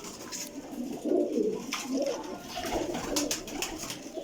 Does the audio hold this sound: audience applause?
no